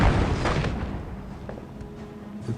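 An anti-tank gun fires at a Panther tank in the video game Company of Heroes Mobile. A single booming shot opens and decays over about two seconds, followed by faint smaller pops.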